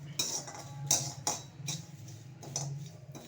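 Curry leaves and garlic dry-roasting in a pan for Tamil horse gram powder, with close, intermittent metal spatula scrapes and clinks against the pan at an irregular stirring rhythm.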